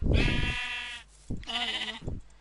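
Sheep in the Minecraft video game bleating twice, each a loud, close, buzzy bleat about a second long, separated by a short pause, with no voices.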